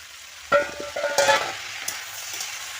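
Cut potatoes drop into a pan of ivy gourd frying in oil, setting off a sudden loud sizzle with clattering stirring, then a quieter, ongoing fry close by, with no speech.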